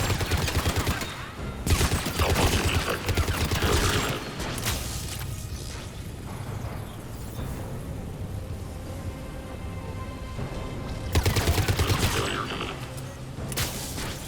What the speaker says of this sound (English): This is the Cerberus Harrier. One of the most broken weapons in Mass Effect 3.